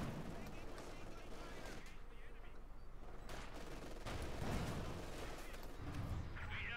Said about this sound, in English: Machine gun, there's a machine gun here.